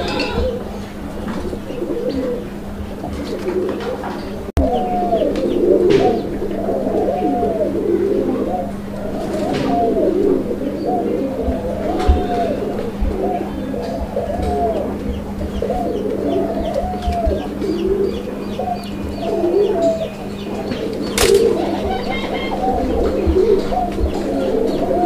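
Madrasi Golla pigeons coo in a steady run of rolling, repeated calls, close and fairly loud, over a constant low hum, with occasional clucking.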